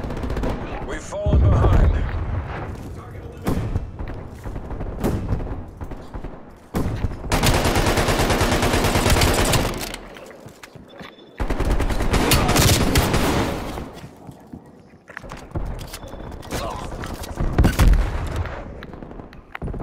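Rapid bursts of automatic gunfire from a Call of Duty: Black Ops Cold War multiplayer match, loud and close, arriving in dense sustained volleys separated by brief lulls, with occasional game voice callouts in between.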